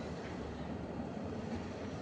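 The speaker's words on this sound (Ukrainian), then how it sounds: "Трамвайчики знизу їдуть." Trams passing below in Prague's Holešovice, near the Výstaviště exhibition grounds, a steady low rumble of rail traffic heard from a distance, continuous and without voices.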